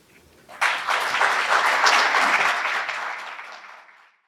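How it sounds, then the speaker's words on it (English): A room full of people at an evening event on faith and poverty bursts into applause after a speech, a dense burst of clapping that swells quickly, holds, then fades away. "we just take one more moment to give Hannah another round of applause?"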